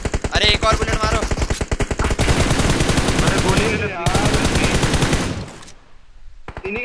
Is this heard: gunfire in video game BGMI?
yes